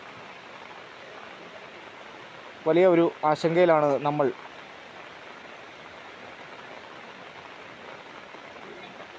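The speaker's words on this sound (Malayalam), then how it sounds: "വലിയ മഴയാണ്, നമ്മുടെ എക്യുപ്മെൻസുകളെല്ലാം നനയുന്നുണ്ട്." Heavy rain falls steadily on a riverside in Puthur along the Kalladayar, a constant broadband hiss throughout, with someone speaking briefly in the middle.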